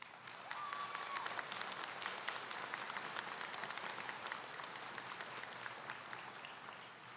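Applause from the audience at a Maryville University graduate commencement ceremony, Spring 2024: steady, dense clapping from a large crowd, sounding somewhat distant and lasting throughout without any voices.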